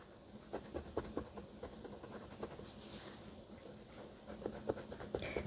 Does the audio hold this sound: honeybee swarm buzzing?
no